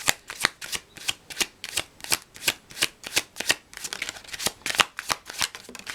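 Tarot cards are shuffled close by in a steady run of crisp riffling flutters, roughly two per second, that grow busier toward the end, with no talking.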